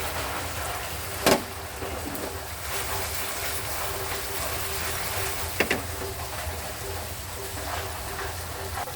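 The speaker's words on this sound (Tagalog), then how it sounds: "yung uulan na naman ng malakas" Heavy evening rain pouring down, a dense continuous hiss with a couple of sharp knocks and clatters nearby, no one speaking.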